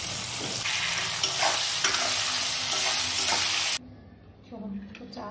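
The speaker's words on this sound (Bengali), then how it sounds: "তো চলো আলু ভাজা করে নিই" Potatoes fry in hot oil with a loud, steady close-up sizzle that cuts off abruptly near the end, leaving quieter room sound with faint background noise.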